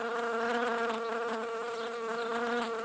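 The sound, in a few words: bee buzzing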